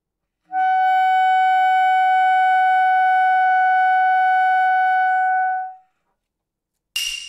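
A baritone saxophone holds a single high altissimo note for about five seconds, steady and clear with a bright, pure tone, then fades out, followed by a brief noisy burst.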